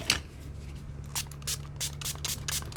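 A series of short hissing spray bursts, about eight quick puffs in an uneven rhythm, close up, following a single sharp click at the start.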